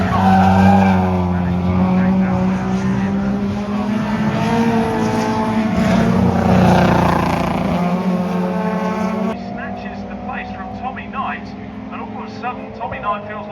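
Closely matched race cars roar around the track during a time attack round, engines droning loudly with tire noise while a commentator talks over them throughout.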